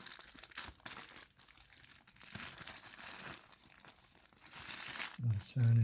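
A plastic bag around the accessories of a PinePhone postmarketOS edition crinkles and rustles steadily up close, with louder crackles near the end.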